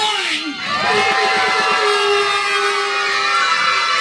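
A crowd at a birthday party claps and cheers, with high-pitched shouts and squeals from children and adults rising over sustained applause, loud and close throughout.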